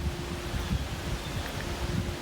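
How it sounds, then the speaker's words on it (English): Gusty wind buffets the microphone over a ravine crossing during a Minnesota deer hunt, a continuous low roar with faint rustling, steady and fairly loud with no voices. "it's super windy"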